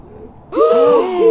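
An owl hoot, one drawn-out wavering call starting abruptly after a quiet moment and holding loudly to the end.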